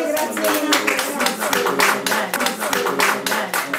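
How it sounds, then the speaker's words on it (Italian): An audience at a book event gives a round of applause, distinct hand claps in a quick uneven patter from a modest crowd, with some voices murmuring beneath. "Allora un altro grandissimo applauso"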